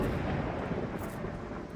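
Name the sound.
thunder sound effect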